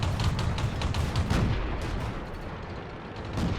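Panzer II J tank cannon fire in World of Tanks, a series of booming shots and rumbling impacts over the first seconds, then fading battle noise, moderately loud with no talking.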